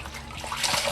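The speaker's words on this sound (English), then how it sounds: "So we are going to rinse the wigs now." A wig is dipped into a bucket of rinse water and lifted out, giving a short close slosh and trickle of water that lasts about a second.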